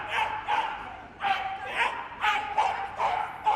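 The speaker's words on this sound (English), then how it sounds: "Vocal little dog, as you can hear." A working cocker spaniel barks throughout an agility run at the Crufts 2011 medium team semi-finals, with about eight sharp, high barks in a quick, uneven rhythm, heard at moderate distance against arena background.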